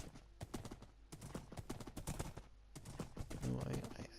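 A horse clip-clops in a Minecraft-style video game as it crosses open savannah, sounding as a quick irregular run of crisp hoof taps with some faint game sounds underneath.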